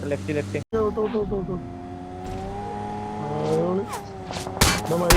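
A jeep's engine drones and revs with a rising pitch as it drives in the mobile game BGMI, with tires squealing near the end and a brief cut partway through. Game sound effects punctuate the final moments.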